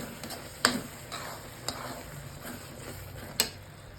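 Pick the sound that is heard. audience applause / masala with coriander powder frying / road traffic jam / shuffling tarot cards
masala with coriander powder frying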